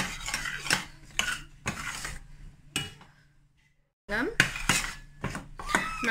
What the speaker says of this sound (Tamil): அடி பிடிக்காமல் விடாமல் இந்த மாதிரி கிளறி விட்டுட்டே இருக்கணும்